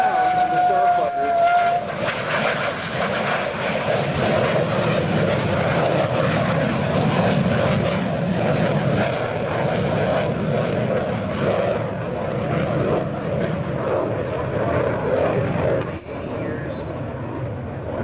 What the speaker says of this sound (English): And that unique sound of the Starfighter.